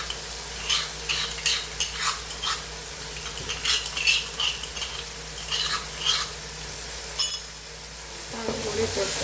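Crushed green chillies fry in a pan for fried-chicken biryani masala, with a constant sizzle under repeated scraping strokes of a spoon stirring, ending in a louder rush of sizzling.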